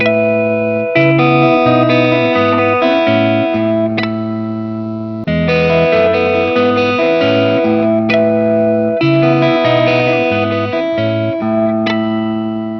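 An electric guitar played through effects with light distortion and chorus, first with Alnico III pickups and then with Alnico VIII pickups in the same guitar at identical settings. Two similar loud phrases of sustained chords and notes ring out with no talking.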